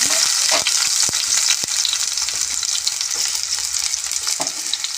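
Onions fry in mustard oil with a bright, constant sizzle, punctuated by sharp clicks and taps of a utensil stirring in the pan.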